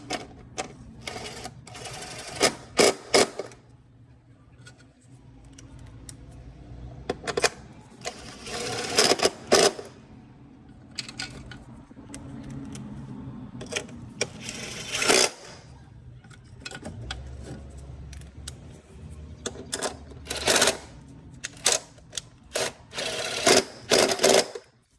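A ratchet tightens 10mm bolts back in on a 2016-2021 Honda Civic during a spark plug change, in repeated bursts of rapid clicking with pauses between, close and fairly loud, no talk.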